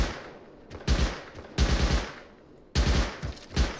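Bursts of automatic gunfire in the survival game Rust, three or four loud rapid-fire volleys separated by short quiet gaps, close and sharp.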